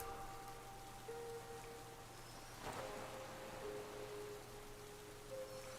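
Rain weather effect from a Pokémon VGC battle: a steady, even hiss of falling rain under soft tonal game music, with no voices.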